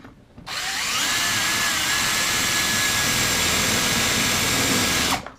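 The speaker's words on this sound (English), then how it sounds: "we're starting to get those flakes, and we're starting to get that drilling action right there" A power drill whines loudly and steadily as a freshly sharpened bit bores into material, throwing flakes, starting abruptly and cutting off after about five seconds.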